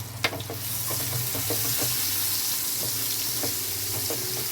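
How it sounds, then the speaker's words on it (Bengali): Chopped onion frying in hot oil with a little salt, a loud, steady sizzle with scattered crackles and a few utensil taps close by. "পেঁয়াজটা আমি তেলের মধ্যে দিয়ে দেবো।"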